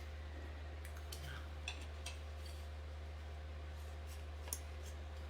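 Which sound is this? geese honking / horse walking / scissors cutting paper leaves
scissors cutting paper leaves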